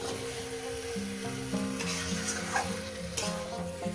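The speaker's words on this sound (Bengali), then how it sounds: "চিকেনটাকে দিয়ে এবার আমি শুধু কষতেই থাকবো" Chicken sautéed over medium gas and stirred steadily in a pan for a chicken and potato curry, a continuous sizzle with repeated scraping and metallic clinks of the spoon, close and fairly loud, no talking.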